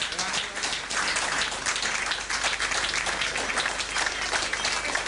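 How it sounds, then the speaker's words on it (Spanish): Steady, dense applause from a gathered crowd at a rural reflection group meeting, welcoming first-time attendees; continuous clapping fills the whole stretch at an even level with no voices over it. "Este aplauso para los que vienen por primera vez."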